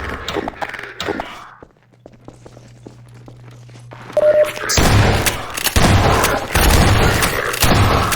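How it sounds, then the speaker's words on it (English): Gunfire in the video game Half-Life 2 Episode One, with a few early shots, a quieter lull with a hum, then loud, dense rapid bursts of shooting and booms. "Shooting!"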